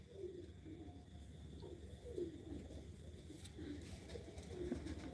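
Pigeons in a coop give soft, low cooing calls again and again in a slow rhythm, fairly faint, with a steady background hum.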